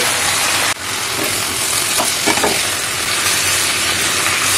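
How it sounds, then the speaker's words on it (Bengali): Bottle gourd greens cooking in a pan are stirred and turned while they sizzle loudly with a constant hiss, and a few scraping strokes rise over it. "দিয়ে ভালো করে নাড়াচাড়া করে ঢাকা দিয়ে আবার কিছুক্ষণ রান্নাটা করব।"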